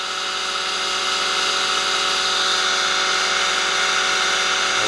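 A pulse motor spins steadily at around 2800 RPM, giving a continuous, fairly loud electric whine with an even tone throughout, alone and without any talking.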